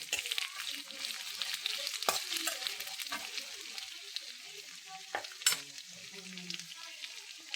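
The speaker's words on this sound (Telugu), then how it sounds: "ఇదైతే కొంచెం మంచిగా ఫ్రై కావాలి." Bottle gourd pulao cooks in a pan with soft frying and sizzling under light stirring, steady at moderate level with a few sharper clatters of a utensil.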